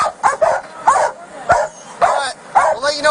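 A police dog barks repeatedly during a roadside traffic stop, loud sharp yips and barks in a rapid, uneven series that fill the whole stretch close to the listener.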